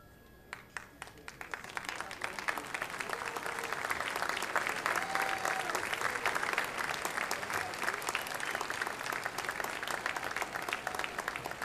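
Crowd applause for graduates of the School of Liberal Arts at the 2018 County College of Morris commencement, swelling after a couple of seconds into dense, sustained clapping that carries steadily to the end.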